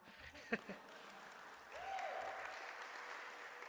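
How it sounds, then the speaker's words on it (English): Audience applause breaks out at the opening ceremony of an American Ethical Union assembly, rising to soft, steady clapping from a distant crowd after a few quiet moments and isolated sounds. "sure, you can clap"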